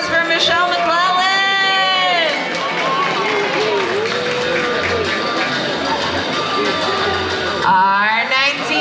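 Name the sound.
audience applause for a pin-up contestant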